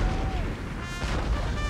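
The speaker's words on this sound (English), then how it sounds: "See if we can catch those first few shots from my artillery." Artillery fires in Napoleon: Total War, heavy booms rolling over a constant roar of battle noise. Two stronger low thumps stand out over the short stretch, with no voice on top.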